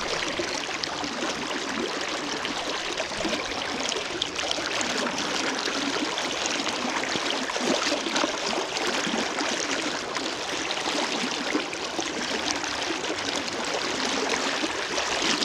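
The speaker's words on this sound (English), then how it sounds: "Just look at the water bubbling up." Water of the Green River rushes and bubbles steadily in late fall, a constant, even wash of flowing sound with no talk over it.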